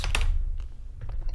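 Typing on a computer keyboard during music software setup, a few quick light key clicks, close and clear, with no talking.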